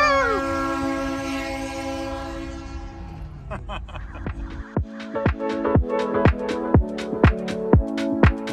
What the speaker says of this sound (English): Got around that train.